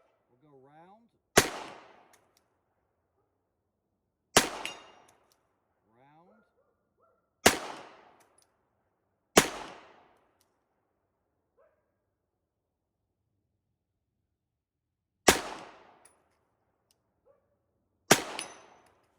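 Six sharp pistol shots fitted with a Holosun 407C-GR sight ring out one at a time outdoors, irregularly spaced several seconds apart, each a loud crack with a short decaying echo, quiet gaps in between and a faint voice early on.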